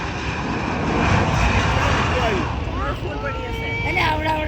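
An Embraer airliner takes off at Durham International Airport, its jet engine roar loud and steady throughout, with rising whine tones near the end as it climbs away; people talk over the engine noise.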